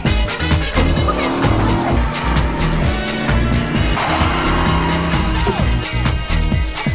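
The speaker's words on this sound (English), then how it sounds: "Amazing vehicles." Racing cars and squealing, skidding tires from an animated sci-fi family film trailer, loud and continuous over a dense music score.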